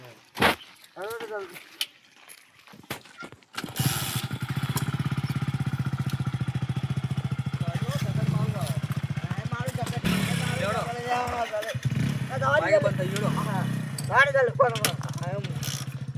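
A motorcycle engine runs steadily with a low, even rumble close by, under frequent overlapping voices and shouts, after a short stretch of talk before it starts.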